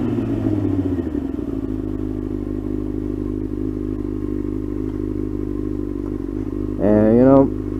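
A first-generation Yamaha R6 sport motorcycle is ridden steadily, its engine a continuous drone with wind rumble throughout, and a short rising rev near the end.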